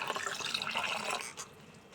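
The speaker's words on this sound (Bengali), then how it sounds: "বেশ বড় গামলায় এরকম করে ধুয়ে নিচ্ছি" Leafy greens being washed by hand in a large basin of water, giving a steady close sloshing and dripping splash that eases off near the end.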